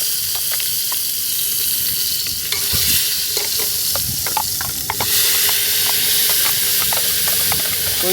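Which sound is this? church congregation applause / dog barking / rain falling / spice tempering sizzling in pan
spice tempering sizzling in pan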